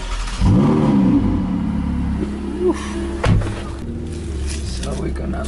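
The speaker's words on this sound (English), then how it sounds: "So let's drive this thing on the delivery truck." A Ferrari engine idles and revs up close as it drives onto a delivery truck, with a few bumps and clunks as it moves, steady motor hum throughout.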